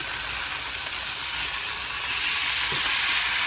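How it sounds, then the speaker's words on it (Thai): Beef panang curry stir-fried in a hot pan, a steady, close sizzle and crackle of frying that runs unbroken throughout, with no voices. "ผัดไปเรื่อยๆครับ"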